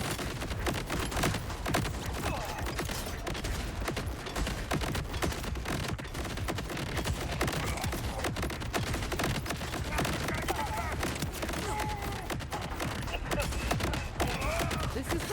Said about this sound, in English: Stop with the turrets.